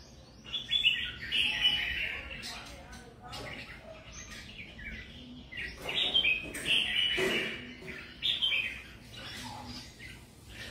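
Several small caged songbirds chirp and tweet in quick bursts, with bright, repeated calls rising and falling over a faint background.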